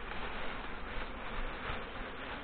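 Honey bees buzz as a steady, close, soft drone while a hive is opened for inspection, with no one talking.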